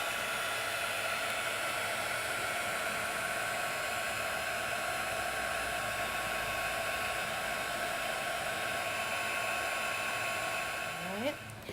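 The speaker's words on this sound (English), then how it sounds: "and we're going to heat that up." Heat tool blowing hot air to melt clear embossing powder on a handmade card, a loud continuous whooshing hum close by, steady throughout and cutting off at the very end.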